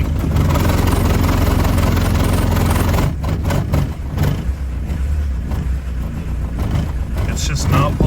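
A 1981 VW Rabbit diesel engine with the pedal floored, struggling to keep running on too little fuel, a loud, rough, uneven drone up close that dips and falters partway through, with a voice speaking over it.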